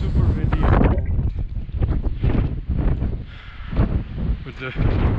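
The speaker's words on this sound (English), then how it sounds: "And it's super windy at the moment," Strong wind buffets the microphone on a steep mountain hiking trail, a loud, continuous roaring rush with gusty surges throughout.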